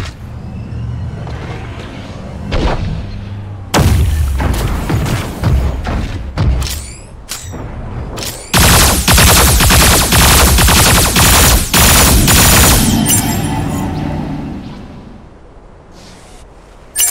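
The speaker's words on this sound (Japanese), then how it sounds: "銃声よ。" Gunfire and heavy impacts in the mecha battle-royale game Super Mecha Champions, with bursts of rapid automatic shots and loud thuds coming in clusters over a steady background rumble, with no talking.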